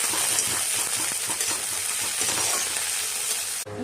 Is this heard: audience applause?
no